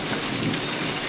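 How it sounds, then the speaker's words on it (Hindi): Heavy rain pours in a dense, steady hiss, loud and close, drumming continuously on surfaces. "बारिश इतनी ज़्यादा हो रही है ना"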